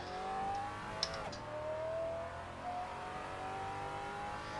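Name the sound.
V10-engined car accelerating, from a racing video game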